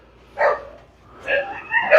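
A dog barks near a group handling a 1911 Hi-Capa pistol, two or three short, sharp yapping barks with a brief whimpering edge, separated by pauses and set against a quiet background.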